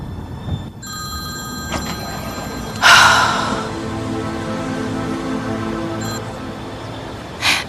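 A telephone rings with an incoming call, several short bright electronic trills separated by pauses, fairly loud and close, with no talking during the rings.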